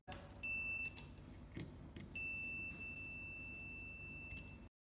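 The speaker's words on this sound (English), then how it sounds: "We can put the multimeter in the sound function so that it sounds when continuity is made" A multimeter in continuity test mode gives a sustained high-pitched beep, then a longer second tone, close and clear over quiet background handling noise.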